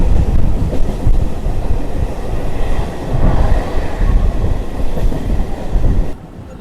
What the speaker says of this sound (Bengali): আর স্পিডে কিন্তু অনেক স্পিডে চলছে ট্রেনটা